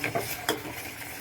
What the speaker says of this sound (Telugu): అట్లా ఉంటలు కట్టకుండా బాగా కలుపుకోవాలి